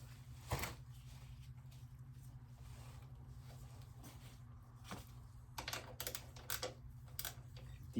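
A speed wrench ratchets on the rear brake line of a motorcycle during a Galfer line install: quiet, quick clicking bursts, one sharp early tick and then a faster run of clicks later.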